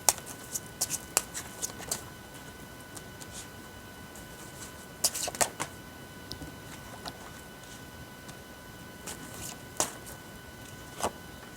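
Tarot cards being shuffled by hand at close range, a soft riffling patter broken by several sharper flicks and slaps spread through the stretch, with no talking over it.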